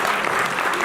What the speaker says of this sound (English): Clapping works for the audience,